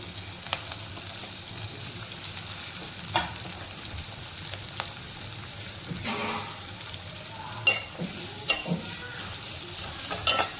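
Chopped onions and green chillies with asafoetida sauté in a pan, a steady low sizzle with occasional stirring scrapes and a few louder spoon knocks near the end, close and unaccompanied by talk.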